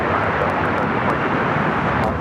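A passenger airplane taking off from runway 25 Right at Los Angeles LAX airport makes a loud, steady broadband roar that fills the whole short stretch without a break.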